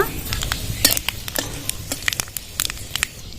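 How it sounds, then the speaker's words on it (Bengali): Dried red chillies, bay leaves and five-spice seeds crackle and sizzle in hot mustard oil, with sharp pops and a spoon scraping the pan now and then. "শুকনো লঙ্কা তেজপাতা আর পাঁচ ফোড়ন তেলে দিয়ে দেবো ফোড়নের জন্য"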